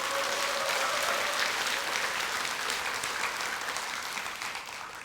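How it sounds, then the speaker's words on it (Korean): A workshop audience claps in sustained, dense applause that stays full and steady for the whole stretch, tapering only slightly at the end, with no voices standing out. "박수 한번 쳐주십시오."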